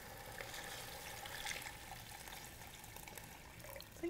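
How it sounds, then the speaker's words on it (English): Water pours into a pot holding a beef roast, a soft, steady trickle and splash that stays faint and close, with no talking. "I'll add water just until it's up to the side of the beef roast"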